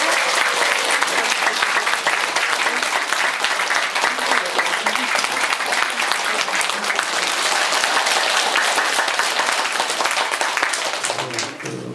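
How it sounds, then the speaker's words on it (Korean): Sustained loud applause from a Korean cultural lecture audience welcoming author Kim Hong-shin, dense clapping holding steady for nearly the whole stretch before tapering at the end. "큰 박수로 환영해 주셨습니다."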